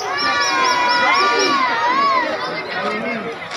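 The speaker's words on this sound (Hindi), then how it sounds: "तो ये देखिए कितनी भीड़ है" A dense crowd packs the grounds of the Shoolini Fair in Solan, a steady din of chatter and shouting children with high whistle-like tones sliding over it, close and continuous throughout.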